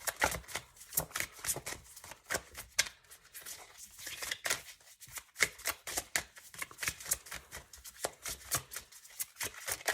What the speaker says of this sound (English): So I'm just going to keep shuffling until we have about 1 or 2 more cards